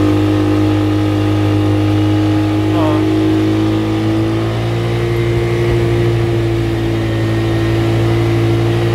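A Japanese farm transport carrier, the Nichino Cheetah IE 250 loaded with 400 litres of oil, climbs a hill in low gear; its engine holds a steady, high-revving drone close by, with a voice talking over it.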